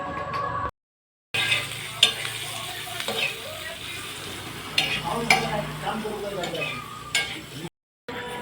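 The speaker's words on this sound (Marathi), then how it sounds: "खोबऱ्या आपण भाजून घेऊया अशा प्रकारे लाल होईपर्यंत" Grated coconut dry-roasting in a pan for a crab curry, with a soft continuous frying hiss, scraping stirs and occasional utensil clinks against the pan, heard close; two brief silent gaps break it.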